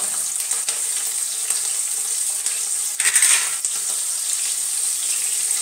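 Sliced onion and green chili frying in hot oil with whole spices for a bottle gourd kofta curry, a steady bright sizzle throughout with a brief louder crackling burst midway as the pan is stirred.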